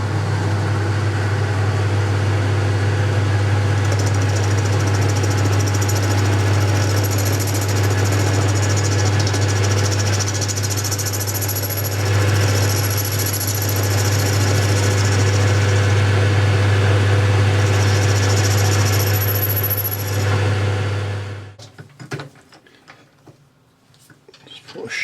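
A lathe faces the end of a small metal holder part for an Anglepoise lamp, its motor humming loudly and steadily with a faint cutting hiss for about twenty seconds before the machine winds down and stops.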